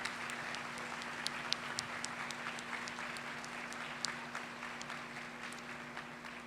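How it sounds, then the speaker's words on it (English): Applause from the audience at a summer high school graduation ceremony, steady faint clapping with a few sharper individual claps, heard in a large hall with a faint background hum and no talking. "So I want you to give yourselves a round of applause as well."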